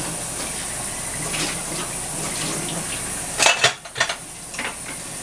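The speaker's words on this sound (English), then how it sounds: "this is really, really hot water, so all I have to do is rinse this out" Hot tap water runs steadily into a container as it is rinsed out, with a few louder sloshes and clinks of the vessel near the end; up close in a kitchen sink while making a wild yeast sponge.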